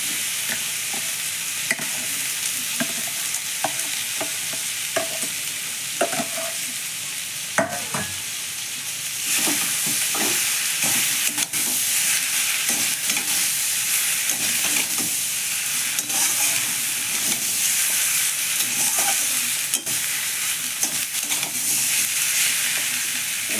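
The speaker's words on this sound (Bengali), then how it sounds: "আমি আলুটাকে আরেকটু নেড়ে চেড়ে ভালো করে ভেজে নেব।" Spiced masala and mashed potatoes fry in a pan for a Bengali dosa filling, with a steady close sizzle and repeated scraping stirs of a spoon against the pan throughout; the frying hiss gets louder partway through.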